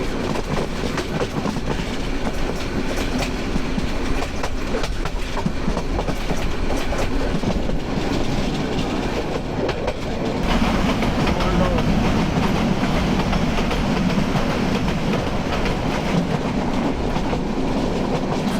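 The Kishoreganj Express intercity train rolls along the rails near Bhairab Bazar Junction, its wheels clattering in a steady clickety-clack rhythm that grows heavier partway through, heard close from on board.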